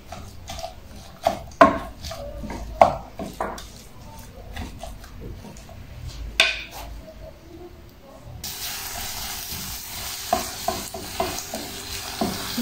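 A savory filling sizzles and fries in a pan while being stirred, with scraping utensil strikes early on, then a steadier, louder hiss of frying takes over; no talking.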